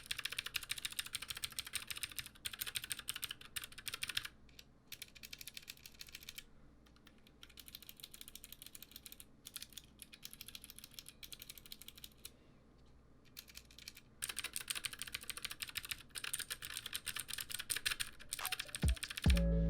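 Steady, clicky typing on a Womier K66 mechanical keyboard with blue switches, sharp rapid keystrokes close up, with a couple of brief pauses between bursts.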